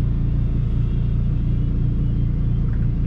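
A drag race car at Biķernieki idles and rumbles near the start line, a loud, steady low engine drone with a pulsing beat and no clear surge of acceleration.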